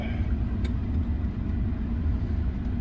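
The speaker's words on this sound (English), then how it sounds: "I'm trying to use the back blowers to get my feet dry" Rear heater blowers run inside a car parked after a trail run on Exmoor, a steady low rumbling whoosh of fan air under a faint engine hum, continuous and close.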